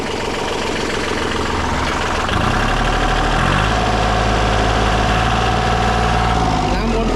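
Diesel engine of a Kubota L1-225 tractor revving hard, loud and steady, the pitch climbing and holding as the throttle is opened, up close with no pause in the roar.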